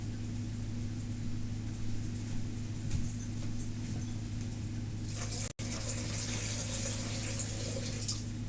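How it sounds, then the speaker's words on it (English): Tap water runs steadily into a pet's bowl from a faucet, a continuous broadband hiss alongside a low steady hum, growing brighter and fuller partway through. "I gotta give Charlie some water"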